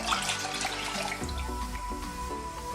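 Cream and milk pour into a pan on a stovetop hob, a continuous close liquid splash and gurgle lasting a few seconds.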